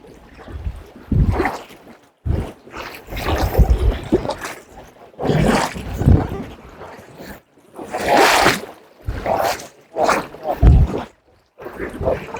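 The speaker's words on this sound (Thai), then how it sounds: "เสียงน้ำไหลสวดสาดอยู่" River water rushing and splashing around a small boat in a shallow stretch in Laos, with loud bursts of churning water heard close up alongside people talking.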